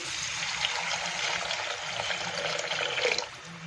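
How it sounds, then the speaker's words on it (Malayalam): Squeezed tamarind water pours into a pot of rasam as a steady splashing trickle over a background of light sizzling, tapering off near the end. "ഇനി ഇതിലേക്ക് വാളംപുളി പിഴിഞ്ഞ വെള്ളമാണ് ചേർക്കുന്നത്"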